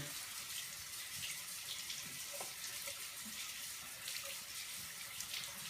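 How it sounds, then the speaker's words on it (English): Hot water runs steadily from a tap into a sink to rewarm a compress for the eyelids, a continuous close hiss of flow with faint splashes throughout and no talk. "So now I'm going to run it under hot water again."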